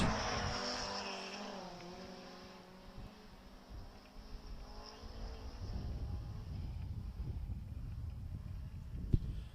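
Race car on a New Zealand hill climb championship stage, heard from a distance: engine note rising and falling through gear changes, then a louder rough roar as it approaches, with a sharp click near the end.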